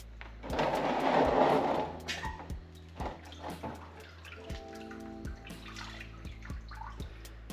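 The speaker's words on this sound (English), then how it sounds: "Now the manifold's out and it looks horrible and it's dripping fluid." Fluid runs and splashes from a removed Toyota Celica TA22 manifold, a brief pouring burst followed by scattered drips and small knocks nearby.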